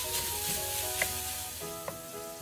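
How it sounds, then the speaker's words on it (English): Ground beef browns in a pan for a teriyaki ramen dish, giving a steady close sizzle with a few faint stirring clicks and no talk. "the ground beef is browned"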